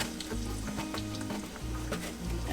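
Garlic fries in cooking oil for dinuguan, a dense, close sizzle with soft stirring sounds, steady and without talk.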